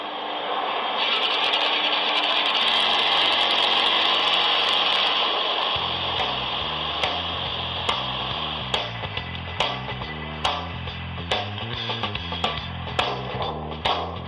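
A Vespa scooter engine runs steadily on a test bench, a continuous loud hum with a low drone that shifts partway through, joined by rhythmic knocking pulses in the second half.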